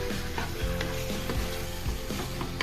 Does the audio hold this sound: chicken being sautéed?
yes